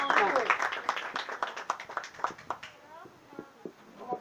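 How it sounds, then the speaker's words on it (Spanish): Applause at a children's poetry gathering, a burst of clapping that thins to a few scattered claps and fades, with voices and children faintly heard underneath. "Bienvenido Miguel Ángel, un fuerte aplauso"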